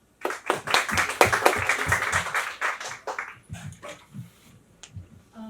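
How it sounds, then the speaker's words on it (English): Audience applause at a corporate session honouring a top exam ranker, with scattered claps close by that build quickly and then thin out into a few isolated claps. "So let's have a huge a round of applause to her."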